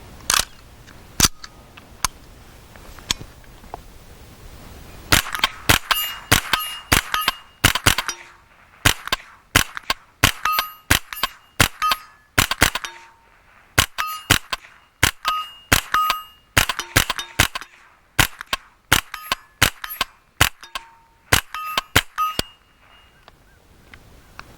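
Rapid series of sharp, loud gunshots from a rifle fitted with a CMMG .22 conversion kit, emptying a magazine in quick, steady bursts with short pauses between groups of shots.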